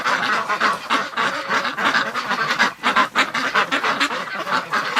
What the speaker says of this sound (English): Thirsty ducks.